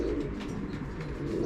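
Racing pigeons coo in a loft, several birds close by making low, throaty, overlapping calls in a continuous murmur.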